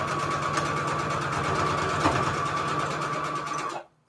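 A sewing machine hums and rattles at a steady pace while joining small fabric crumb scraps into a patch, running continuously and close before stopping abruptly at the end.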